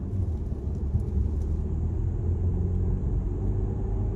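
Audi Q5 Sportback S line engine accelerating, heard as a low, steady rumble from inside the car that stays even throughout.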